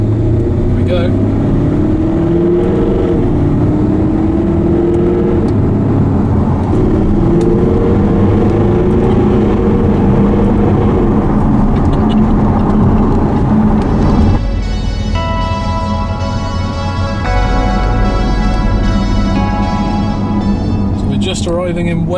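A Jaguar XKR-S drives on an open road trip, its engine a steady loud drone that rises into a harmonic growl partway through as the car is pushed harder, with a voice talking over it.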